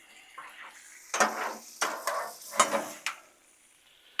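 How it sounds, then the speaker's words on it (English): Chicken is mixed with tequila lime seasoning on a Blackstone griddle, heard as several uneven metal spatula scrapes and taps over a faint sizzle, close and clear with no talking. "Now we'll mix all that up."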